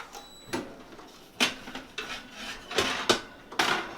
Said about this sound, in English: So I'm going to take this one out of the oven now.